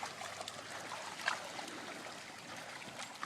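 Cows and calves wading across a flowing creek, with a steady gurgle and trickle of moving water throughout and a few faint splashes, soft and fairly even, no talk heard.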